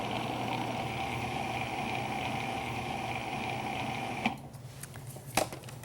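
A food processor hums steadily with a loud, close, even motor whine, then shuts off abruptly, leaving a quieter room with a couple of small clicks and knocks.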